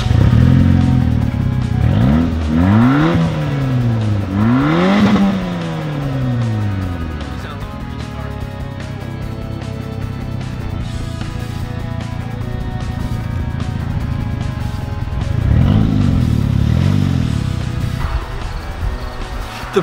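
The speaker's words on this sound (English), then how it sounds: "The prominent exhaust leak that you'll get driving this aged beauty of a car almost sounds like a raspy diesel with the turbo whistle" An old yard car's engine is started and run with a raspy, rattling exhaust leak. It sounds loud and close, with rising and falling revs early on, then a steady rough idle, and revs again near the end.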